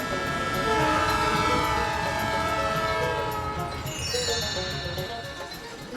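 Moving train rumbling steadily along the tracks while its horn blares a long sustained tone, loud and near, before the horn shifts pitch toward the end.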